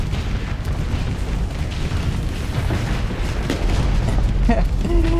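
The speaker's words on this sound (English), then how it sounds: "I love just seeing like the explosion there" A deep, rumbling explosion in a strategy video game, a dense sustained low roar filling the scene, loud and continuous with faint higher clicks near the end.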